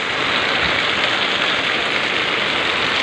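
Heavy rain pours onto a street, a loud, dense and steady hiss that runs the whole time with no break, and a faint engine rumble sits low beneath it.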